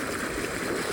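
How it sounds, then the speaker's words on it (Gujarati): An irrigation motor pump on a farm sends out a strong, continuous rush of gushing water, loud and steady with no talk. "એટલે આપણે મોટર પાણી કાઢે છે"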